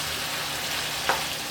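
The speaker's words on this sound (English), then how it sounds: "Give this a good mix." Ground meat for a Greek-style moussaka, mixed with tomato paste, sizzles steadily in a pan as it is stirred, a continuous close frying hiss with a brief louder scrape of the spoon near the end.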